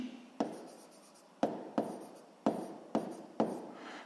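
Pen or pencil writing numbers by hand on paper during a sixth-grade maths exercise: five or six sharp scratchy strokes, each starting with a tap and trailing off, near and alone with no talk.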